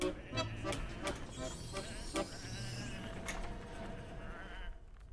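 Sheep in the video game Whateverland bleat repeatedly in short, wavering calls close by. The calls overlap with a faint background hum.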